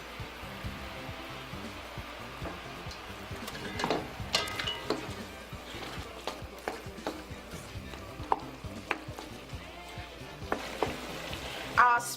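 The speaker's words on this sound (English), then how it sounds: "I am going to add my steamed spinach and let it cook just for about 5 minutes." Steamed spinach simmering in broth in a pot while eru is prepared, giving a faint, steady bubbling sizzle with scattered soft clicks and stirring knocks.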